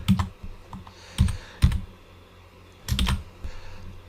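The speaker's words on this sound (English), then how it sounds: "I could just type it again." Keystrokes on a computer keyboard while entering spreadsheet criteria, close-up clicking in short irregular bursts with brief pauses between them, no voices.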